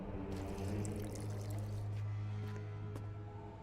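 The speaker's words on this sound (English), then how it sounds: "I need to add burnt lime to the flask, then quench it with water" Water poured into a flask in The Witcher 2: a steady, faint pouring trickle running the whole time beneath a low humming background.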